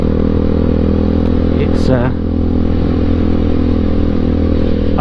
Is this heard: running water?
no